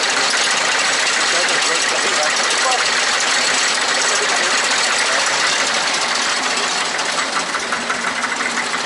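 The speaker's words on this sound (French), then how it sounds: "On remet le moteur qui est passé en diesel au lieu d'être en essence." An old stationary engine, converted from petrol to running on diesel, runs steadily and loudly throughout at a farm show, with a continuous dense mechanical rattle and no pauses.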